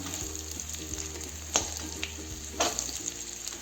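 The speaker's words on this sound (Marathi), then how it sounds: "कारलं छान आता फ्राय झालेलं आहे सगळीकडून छान भाजलेलं आहे" Bitter gourd (karela) stuffed with filling fries in a pan, giving a steady low sizzle with a couple of sharper pops and clatters, close and alone without voices.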